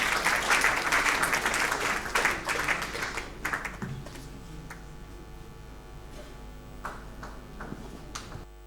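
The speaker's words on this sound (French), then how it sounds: "On applaudit très fort, mesdames, messieurs. Un applaudissement." Audience applause at the first Pool Malebo music awards ceremony, a dense wash of clapping that is loud for the first three seconds, then thins into scattered faint claps over a low hum.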